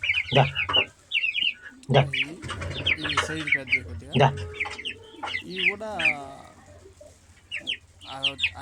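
Chickens and young roosters offered for sale cluck and crow close by in short repeated calls, interleaved with someone talking.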